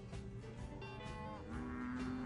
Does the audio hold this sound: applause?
no